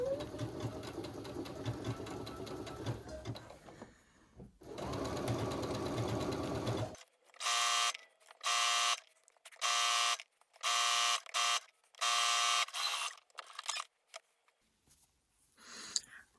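Sewing machine stitching a blind hem on a tunic: a long run of whirring stitches, a pause, another run, then a series of short, evenly spaced stitching bursts with quiet gaps between, close by.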